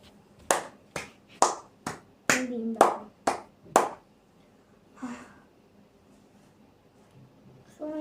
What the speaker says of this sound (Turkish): Böyle alkışlayalım. Alkışlayalım böyle.